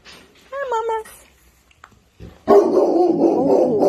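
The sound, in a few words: dogs barking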